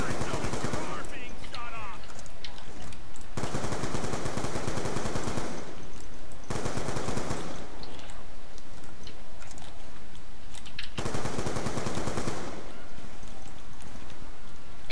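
Rapid, loud gunfire at zombies in the video game Black Ops 2, dense bursts of shots in several long stretches separated by brief pauses, with game noise filling the background.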